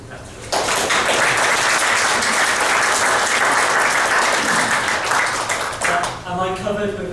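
Audience applause at a London talk marking the International Day Against Homophobia, greeting a speaker; dense sustained clapping from a full room that starts abruptly, holds steady, then thins as a voice begins speaking near the end.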